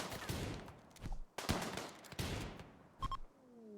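Gunfire in a video game arrives as several short, sharp bursts and volleys separated by brief gaps, moderately loud, with faint effects between them.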